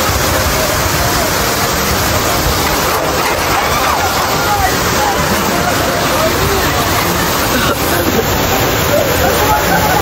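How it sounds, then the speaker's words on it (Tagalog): A deep river with a strong current and heavy waves roars loudly and continuously up close, a dense unbroken wash with no talking. "Maganda-ganda yung agos ng tubig."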